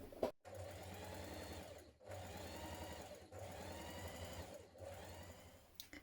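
A sewing machine runs in steady bursts, stitching a shirt seam just inside the seam allowance, its motor whirring in three long runs separated by brief pauses.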